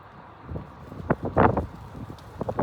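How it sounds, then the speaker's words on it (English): Wind blows outdoors and buffets the microphone in low, uneven gusts, with a few soft rustling bursts rising and falling at moderate to faint level. "It's pretty windy out here."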